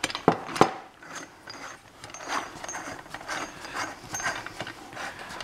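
Ozark Trail folding shovel being turned over and locked into its pick setting, giving a few sharp close metallic clicks early on followed by softer ratcheting and scraping of the hinge mechanism.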